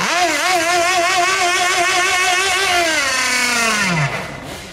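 Small petrol engines on radio-controlled racing boats are run up for testing, a loud sustained buzzing whine that wavers in pitch as the throttle is worked, then drops sharply and fades near the end.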